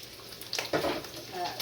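Bacon sizzles and crackles in a frying pan, a steady close hiss of fat with a few sharper pops swelling partway through, no talking.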